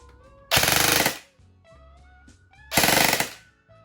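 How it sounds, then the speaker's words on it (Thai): A G&P M4 airsoft electric rifle firing full auto, two loud, close bursts of rapid buzzing shots, each about half a second long, with a quiet gap between them. "มาดูการยิงออโต้บ้างครับ ไปที่ตำแหน่งออโต้นะครับ ยิงได้ครับ"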